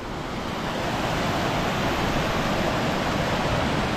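A river rushes near a waterfall on a fell in the Lake District hills, a loud, steady broadband roar of flowing water with no breaks, close by and with no voices.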